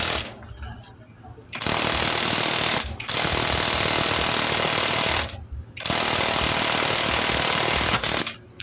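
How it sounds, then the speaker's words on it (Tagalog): An impact driver hammers on a puller to remove the seized magneto from a Suzuki Sniper 150 motorcycle, with loud rattling bursts of about a second and over two seconds separated by short pauses, close up. "So nakakabit na yung ating puller at ito gagamitan na natin ng impact drive."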